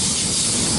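Steady loud hiss and rushing roar of a Sydney Bondi Junction train passing close by platform 3 at Tempe station, continuous without a break for under a second.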